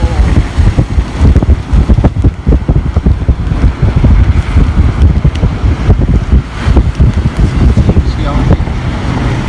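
Tropical Storm Eta's strong gusts blast the microphone in George Town, Cayman, heard from a car driving through the storm as loud, buffeting, uneven roaring bursts over a low rumble.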